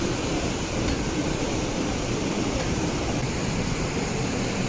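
At Haew Narok waterfall in Khao Yai National Park, water thunders down as a steady, dense roar that never varies, loud and enveloping, with no voices.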